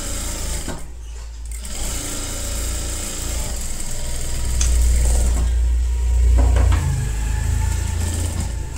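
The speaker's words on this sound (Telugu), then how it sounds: "నీట్గా లాగకుండా కరెక్ట్గా కుట్టేసుకోండి." A sewing machine stitches the seam of a kids' palazzo pant, a loud, close, continuous mechanical whirr that speeds up and slows through the stretch, with brief pauses and no talk.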